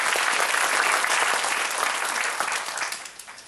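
Sustained applause from a large audience at a Giffarine business awards event honoring a Diamond-rank member, dense steady clapping that fades slightly toward the end.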